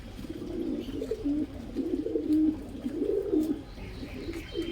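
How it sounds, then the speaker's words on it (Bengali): Domestic house pigeons coo in low, rolling repeated phrases, close and clear, several overlapping calls with faint chirps behind and no talk. "এগুলো আমার পায়রা, বাড়ির পায়রা।"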